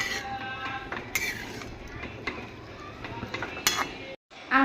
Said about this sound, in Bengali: এই যে চোদ্দ শাক রান্না করছি।